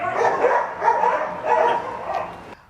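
Dogs at an animal shelter bark in three rough bursts, fairly close and loud, with no talk.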